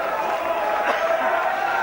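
Crowd cheering at a St Helens v Leeds rugby league match as the Leeds team comes out, a steady broad roar of many voices from a large stand, sustained and fairly loud throughout.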